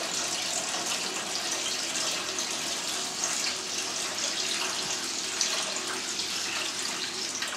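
Tap water gushes steadily into a 15-litre pot being filled for a water bath while making Manchego cheese at home, a continuous close rushing pour with no talking.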